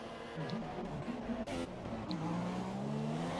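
Race cars in the F1 2017 video game, high engine whines rising and falling as cars pass and rev, with a brief tire squeal, loud and continuous without talk.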